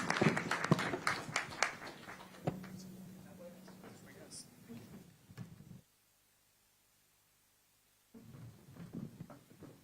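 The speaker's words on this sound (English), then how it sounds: "Round of applause." Applause breaks out from the audience at a SuperMotocross pre-race press conference in St. Louis, a burst of clapping mixed with voices that thins out and drops into silence, then picks back up with more voices.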